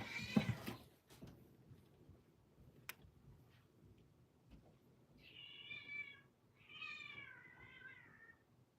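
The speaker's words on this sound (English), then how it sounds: "my kitten got caught in a little rope there" A kitten meows twice in short, rising-falling cries after getting caught in a small rope, the calls fairly close and clear over a quiet room with a few faint ticks and knocks earlier.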